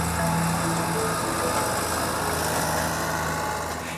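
A hydraulically activated, spring-loaded, one-tine weed-chipping tillage prototype runs at a research facility, a steady, close engine drone with a constant buzzing hum throughout.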